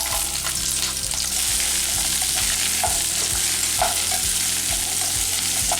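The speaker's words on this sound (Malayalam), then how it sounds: "ഇനി ഈ ചൂടായ എണ്ണയിലേക്ക് നമ്മൾ പൊളിച്ച് റെഡിയാക്കി വെച്ചിരിക്കുന്ന ഉള്ളി ഇട്ട് കൊടുക്കാം." Peeled shallots sizzle steadily in hot oil for shallot theeyal, a dense continuous frying hiss with soft repeated stirring scrapes, close and fairly loud, no voices.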